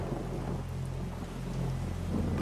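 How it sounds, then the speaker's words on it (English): Heavy rain falls in the Amazon rainforest with low rumbling thunder beneath, a dense continuous hiss of drops and a steady deep roll throughout. "The process begins with rain, which falls up to 250 days a year in the Amazon."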